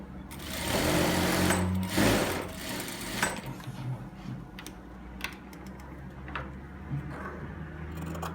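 Domestic sewing machine stitching a placket zipper set, loud rapid whirring bursts at first, then easing into quieter intermittent runs with small clicks and pauses.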